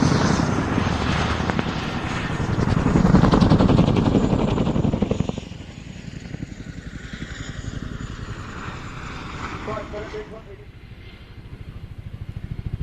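An aircraft engine and rotor noise roar at the Royal International Air Tattoo 2019 airshow, loud at first and then fading as the aircraft moves off. A commentator talks over it throughout.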